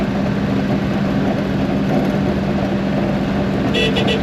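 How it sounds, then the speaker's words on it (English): A small horn on a 1934 Ford pickup street rod blares in one continuous, steady honk for several seconds, loud and close. "Awesome sounding little horn for a little truck."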